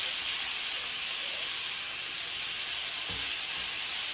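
Flank steak sizzles in a hot cast iron pan, a steady broadband hiss that holds even throughout, with a soft low thump near the end as the meat is moved.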